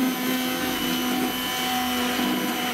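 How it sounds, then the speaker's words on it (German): An immersion blender runs steadily in a Dutch oven, puréeing sauerbraten sauce. It gives a loud, continuous motor whir with a constant high pitch, close up, with no talking. "nehmt ihr euch hier so einen Zauberstab, so einen Mixer, kippt den einmal an"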